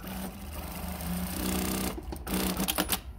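A Juki DDL-9000C industrial sewing machine running a steady fast stitch, then slowing and stopping with a few clicks near the end. The sound is close and continuous.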